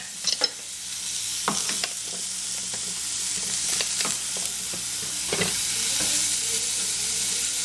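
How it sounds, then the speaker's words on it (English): Burger patties for mushroom Swiss burgers sizzle steadily in a pan, a constant hissing fry broken by occasional scraping and stirring clicks, close and with no talking. "let them sizzle a little bit"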